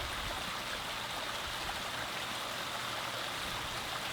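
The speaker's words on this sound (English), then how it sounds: "What we got was a beautiful mountain stream simulation so that we could hear that noise." Water flows steadily down an artificial mountain stream built into a backyard pond, a constant close rushing and splashing wash with no pauses and no voices.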